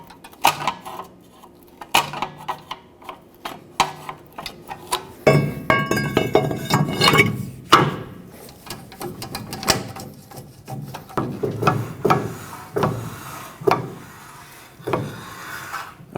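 Parking brake shoes lightly scrape a turning rear drum on a 2011-2016 Ford F-350, giving faint repeated rubbing and clinking contacts close by, with louder metallic handling noises in between.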